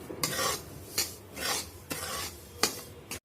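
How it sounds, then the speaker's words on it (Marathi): Semolina roasts in ghee in a pan, stirred in four rhythmic scraping sweeps with a soft hiss between them, close and moderately quiet. "रवा 2 वाटी आहे तर अर्धी वाटी तूप घालून थोडा वेळ भाजून घेऊया."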